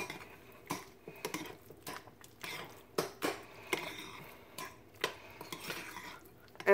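Spoon scraping and clinking against a pot while stirring oatmeal with pumpkin pie spice and peaches, a series of irregular close scrapes and taps with quiet gaps, no talking.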